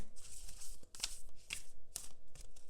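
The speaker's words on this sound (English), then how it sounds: "let me shuffle one more time so you so you guys can see it" Close up and quiet, a deck of tarot cards is shuffled in several quick riffling bursts separated by short pauses, with no voices.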